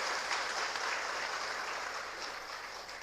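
An audience at a political speech breaks into a dense, steady round of clapping, loud and continuous for a few seconds, easing slightly toward the end with no voice above it.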